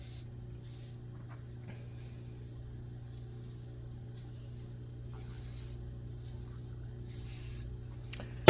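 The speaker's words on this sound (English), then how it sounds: "I spray each stud that I plan on removing" Short bursts of aerosol spray hiss onto studs, repeated several times at an uneven pace, close up over a low steady hum.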